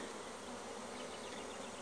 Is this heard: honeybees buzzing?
yes